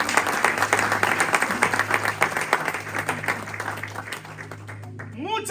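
Church congregation applauding, dense sustained clapping from a crowd over background music, fading near the end.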